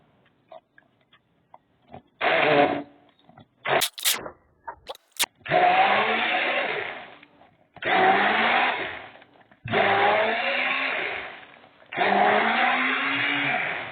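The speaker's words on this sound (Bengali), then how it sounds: "আমরা আর একটু ব্লেন্ড করব।" An electric blender whirring through mango juice in four loud bursts of a few seconds each, separated by short pauses, with scattered clicks and knocks before the first runs.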